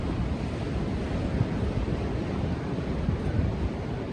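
Sea waves wash steadily at Caves Beach beside sea caves, a continuous broad rushing surf with wind buffeting the microphone, loud and close.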